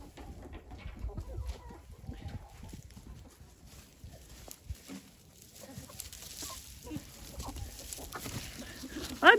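Chickens kept in an indoor pen during winter, clucking softly and intermittently at low level amid faint rustling, with a louder bump at the very end.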